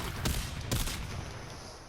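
Zarr cannon in barrage mode firing in Warframe, two quick explosive bursts about half a second apart, fairly faint and followed by a fading tail.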